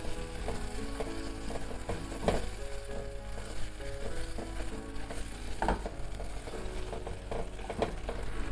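Butter is stirred quickly into browned, dissolved caramelized sugar in a pan. A steady soft sizzle runs under repeated scraping and stirring clicks, close and continuous.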